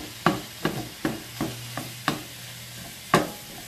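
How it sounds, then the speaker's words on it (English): Hamburger meat browns in a pan for goulash: a low sizzle runs under a series of regular scraping strokes from a spatula, about seven distinct pushes spread through the clip. "Hamburger's cooking up."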